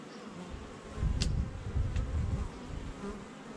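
Honey bees buzz steadily around an open beehive during a hobbyist honey-super inspection, a dense close drone that swells after the first second and holds, with a couple of brief higher buzzes as single bees pass near.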